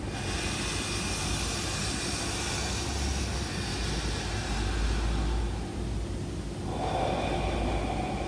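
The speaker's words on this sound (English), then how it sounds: "If I make a bit of noise with my breath while I'm doing it" Steady, audible breathing during a slow qigong silk reeling exercise, with a continuous hissing airflow close to the microphone that swells and eases gently over several seconds.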